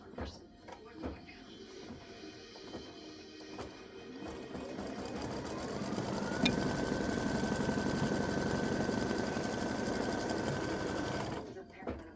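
An embroidery machine runs a color stop that tacks down fabric pieces for Thanksgiving turkey tic-tac-toe game parts, its steady rapid stitching hum holding at a constant, fairly close level. A pitch rises and then holds partway through, and a person talks briefly.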